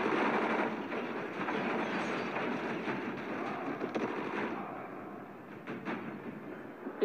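A train in the zombie survival game Dying Light rumbles past as a loud, steady broadband roar with clattering texture that eases off slightly toward the end.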